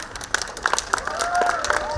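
At a storytelling session during the Shillong Book Fair, a small audience breaks into brief, scattered clapping with some crowd murmur and cheering, heard fairly close.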